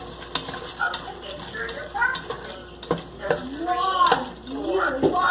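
Black and white chickpeas sautéing in a pan for pressure-cooker biryani, a soft sizzle with spatula stirring and scraping, while someone talks over the cooking.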